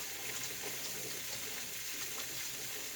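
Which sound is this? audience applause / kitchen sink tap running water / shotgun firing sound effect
kitchen sink tap running water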